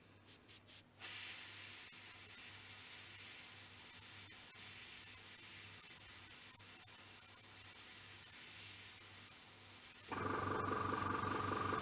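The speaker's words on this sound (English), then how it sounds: "So we'll test spray first. Make sure paint's flowing properly." An airbrush sprays paint as a test before painting a Ju 86 scale model, giving a steady, quiet hiss that runs throughout after a few brief clicks and grows louder and brighter near the end.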